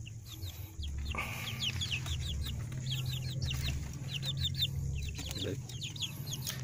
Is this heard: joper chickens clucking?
yes